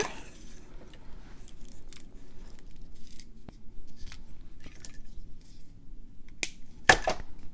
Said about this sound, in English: I'll trim the other end of my wire